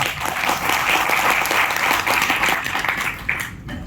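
An audience applauding a speaking pastor, a full, steady burst of clapping that holds strong before tapering off at the end.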